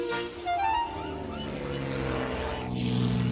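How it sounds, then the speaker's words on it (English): Airplanes fly overhead near an airfield, a rising and falling drone with a noisy wash that swells toward the end, moderately loud and steady. "Percy heard the airplanes zooming overhead all day."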